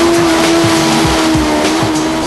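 A loud race car engine drones steadily with a constant tone, broken by a few low thumps and revving dips as gears change.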